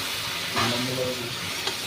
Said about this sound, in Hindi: क्योंकि अब ये सारा मसाला एक साथ भुनाई कर लूँगी।